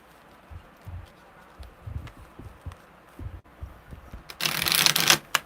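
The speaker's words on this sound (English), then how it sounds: "one more good shuffle" Tarot cards are shuffled by hand close up, with soft irregular taps and riffles, then a louder bright burst of card flutter at the end.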